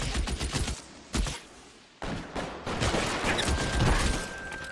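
Gunfire in the video game L.A. Noire: loud bursts of rapid shots, a sharp volley, a brief pause, then sustained crackling fire with a high ringing tone.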